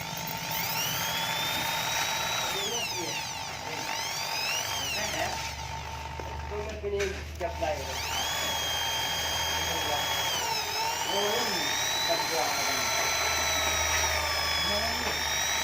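A power tool whines steadily while sanding a worn, loose piston pin from an automatic motor scooter. The close, high-pitched grinding tone rises and falls in pitch across the whole stretch, with a low hum underneath.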